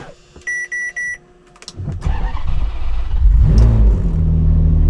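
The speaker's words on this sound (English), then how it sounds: "We're off in the 599. Big old V12." A Ferrari 599 with its big V12 rumbles into life and pulls away, the deep engine note building and growing louder after a few electronic chimes inside the car.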